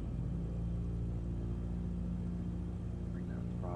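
Small aircraft engine running steadily after start-up on a flight out of Kodiak City toward Pasagshak, a constant loud droning rumble with even harmonic tones throughout, no voices.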